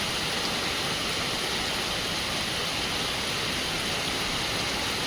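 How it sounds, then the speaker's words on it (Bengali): Dense, steady monsoon downpour in Mumbai hisses without pause, a loud even wash of rainfall with no voices. "মুসলধারে কিন্তু বৃষ্টি হচ্ছে"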